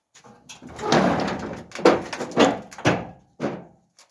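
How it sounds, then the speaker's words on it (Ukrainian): Wooden or metal side boards of a truck bed being shut, a series of loud knocks and thunks spaced irregularly over a few seconds, close by. "закриваємо зараз борти"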